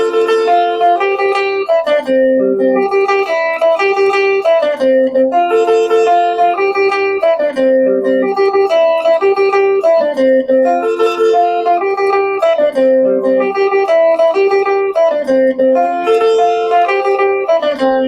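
Guitar strums through two combined chord shapes in a steady, even rhythm, with clear repeated chord changes ringing out up close and no talking.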